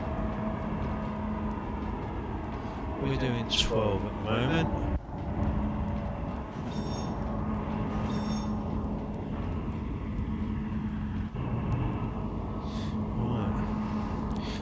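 Trains running in the railway simulator game Trainz A New Era on the Chiyoda Branch Line, with a steady rumble and a sustained horn-like tone under continuous close talk from a man.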